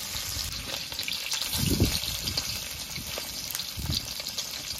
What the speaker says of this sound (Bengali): পনিরগুলো দিয়ে দিয়েছি তেলের মধ্যে, এবার নেড়ে চেড়ে আস্তে আস্তে ভেজে নেব পনিরগুলো।